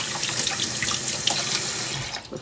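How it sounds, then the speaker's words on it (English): Hands rinsed under a running kitchen tap without soap, a steady close splashing stream of water that tapers off near the end of the short stretch. "Gonna re-rinse my hands without an antibacterial soap"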